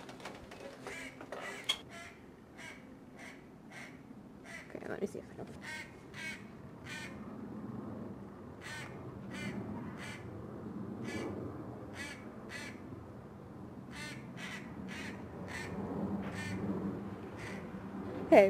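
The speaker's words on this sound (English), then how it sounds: "There's like three of those little squawkers living in our tree." Repeated harsh squawking calls from small birds, coming in short bursts at a steady pace over a soft outdoor background.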